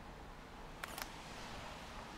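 A single camera shutter firing at 1/30 second with a 35mm lens, a quick faint double click standing alone over a steady background hiss.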